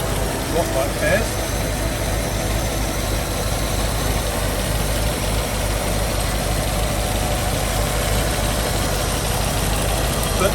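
Land Rover Discovery 3 with a V8 engine idling, a steady low rumble held evenly throughout, close and fairly loud with no revving.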